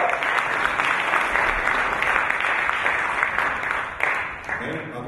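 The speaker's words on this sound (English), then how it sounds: "Let me give yourselves a big round of applause for that." Steady audience applause at a spoken-word event in Zion Centre, Manchester, a dense wash of clapping that holds for about four seconds, then eases slightly with a few voices mixed in.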